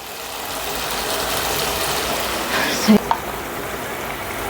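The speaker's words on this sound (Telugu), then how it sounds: "లో ఫ్లేమ్లో పెట్టుకొని వేపుకోండి, అప్పుడే మనకి బాగా మాడకుండా అల్లం వెల్లుల్లి పేస్ట్ బాగా వేగుతుంది" Ginger garlic paste frying in a pan over a low flame while a chicken curry is cooked, giving a steady, continuous sizzle with a brief stir or clatter near the end and no talking.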